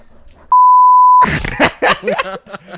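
A single loud, steady censorship bleep tone cuts in for under a second, followed by someone talking.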